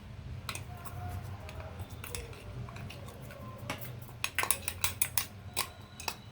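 A spoon clinks and scrapes against a bowl while almond powder and wheat flour pancake batter is mixed, giving irregular soft taps that pick up into quicker clicks toward the end, close and quiet over low background hum.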